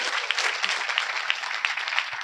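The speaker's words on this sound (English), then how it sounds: "Let's give him a round of applause." Audience applause at a business talk, a steady dense wash of clapping from a crowd, fairly loud and continuous with no voices over it.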